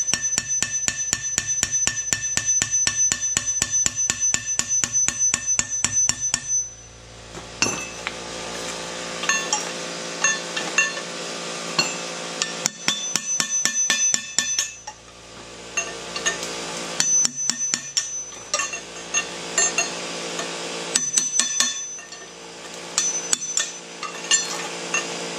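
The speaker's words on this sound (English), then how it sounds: "I'm gonna put my chisel against that lip of the bearing and see if I can drive it off" A hammer drives a chisel against the lip of a rear axle bearing on a 2016 Jeep JK, sharp metallic strikes in rapid repeated bursts with brief pauses, close and loud, no talk.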